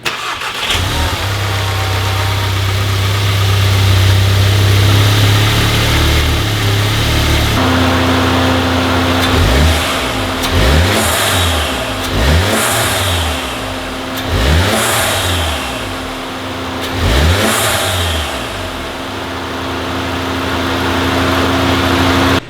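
A Volkswagen Mk7 GTI turbo engine with its muffler deleted cranks and starts, settles into a loud idle, then gives a series of sharp, evenly spaced revs that rise and fall five times, close and alone.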